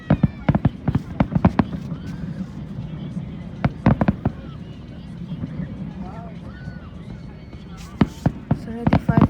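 Eid Al Adha fireworks explode over Katara in Qatar, sharp bangs and crackling bursts in clusters with gaps, heard from a crowd with people talking throughout.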